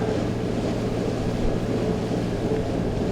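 A crabbing boat's engine running at about 1700 RPM while steaming against the tide, a loud, continuous low rumble mixed with wind and water noise.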